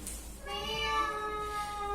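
A person's voice imitates a cat with one drawn-out, nasal meow lasting over a second, close and clear over a faint room hum.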